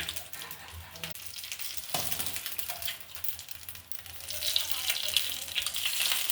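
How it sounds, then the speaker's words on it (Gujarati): Sizzling and crackling of hot oil tempering with curry leaves poured over rice-flake khaman, loud and close, building toward the end with some stirring. "આપણે વઘાર ઉપરથી આને એડ કરવાનું છે"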